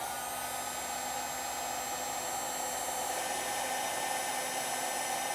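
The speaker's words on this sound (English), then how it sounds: "we use our heat gun to shrink down our butt connector" A heat gun shrinks a butt connector on a wire harness for an Air Lift WirelessONE compressor on a 2024 Ford F-series truck, blowing a steady, close, loud hot-air roar that holds unchanged throughout.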